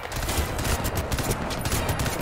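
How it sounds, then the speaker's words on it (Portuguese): Continuous dense gunfire from the video game Crysis 2, a loud, unbroken rattle of automatic shots filling the whole moment with no talking. "Ó, tem tiro vindo até ali da direita ali, ó."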